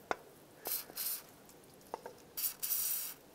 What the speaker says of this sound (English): I'm going to work it back and forth and spray some rust penetrant